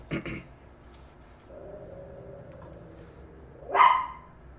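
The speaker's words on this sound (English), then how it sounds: "my dog was alerting me to the fact that we had a delivery coming in" A dog barks at an arriving delivery: one sharp bark at the start, a low whine in the middle, then another loud bark near the end, close by.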